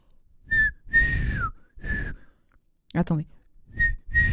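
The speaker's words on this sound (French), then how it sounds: "Laissez-moi le temps d'apprendre à siffler." A person whistles in short, separate notes with clear gaps between them, one note sliding downward, and a brief spoken word breaks in midway.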